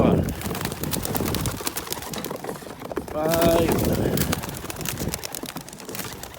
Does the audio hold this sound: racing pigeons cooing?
yes